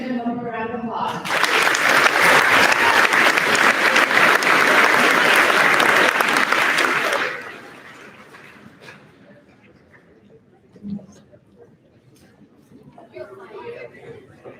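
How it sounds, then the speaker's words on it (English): A school audience at an 8th grade awards ceremony claps loudly and steadily for two award winners, a dense round of applause lasting several seconds before dying away into quiet room murmur and a few faint sounds. "Let's give them a round of applause"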